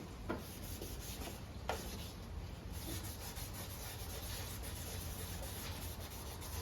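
Headlight lens on a 2004 Dodge Ram being hand sanded with a Mother's headlight renewal kit, a quiet, continuous rubbing scrape in circular strokes, with a couple of faint knocks.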